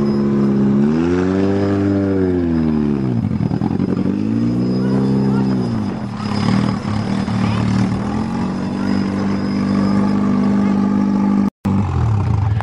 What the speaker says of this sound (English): it's got fouled plugs. It's misfiring, so I have to change the plugs in it.